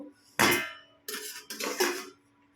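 Metal cooking pots for rice and masoor lentils are set down on a stove, making three close, sharp clanks with short ringing tails and quiet gaps between them.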